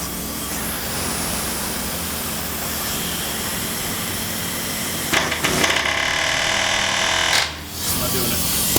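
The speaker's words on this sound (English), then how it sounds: "I'm going to try to drive it through with this air hammer." A loud, continuous machine roar fills the scene, broken by two harsh bursts of rapid air-hammer pounding on a Corvette rear suspension bolt; a voice is heard under the noise.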